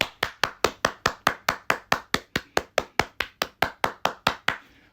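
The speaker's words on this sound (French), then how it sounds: "Je vous applaudis, vous m'applaudissez, on s'applaudit" A single person clapping hands in a steady, even rhythm, about twenty sharp claps close by, alone without any talk.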